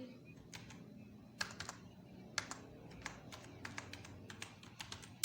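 Typing on a computer keyboard while working in Adobe Illustrator, with quick bursts of light, close key taps separated by short pauses over a low room hum.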